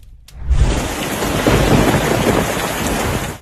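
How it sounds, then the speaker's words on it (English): A thunderstorm over Tashkent, Uzbekistan, recorded from a window: after a brief quiet moment, a loud rumble of thunder breaks in and rolls on over heavy, hissing rain for the rest of the clip. "During a storm over Tashkent,"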